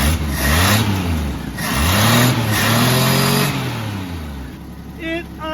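A 1967 Plymouth Barracuda engine runs rough and loud after a revival, idling with surging, wavering revs close by while people talk and exclaim over it.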